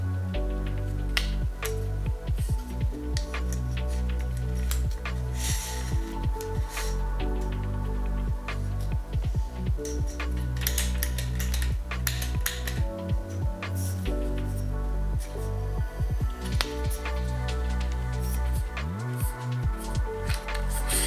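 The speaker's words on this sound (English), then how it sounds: "To extend the arm you have quick flip mechanisms, and you also have adjustable clamps." Quick flip locks and adjustable clamps on the extension arm of a Selens reflector holder being worked, giving a long run of dense clicks, snaps and plastic knocks, loud and close with no talking.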